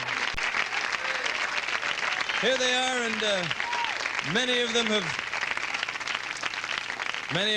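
A 1983 late-night television studio audience applauds and cheers the entrants of a beauty pageant, a continuous wash of clapping beneath a host's amplified voice speaking over it.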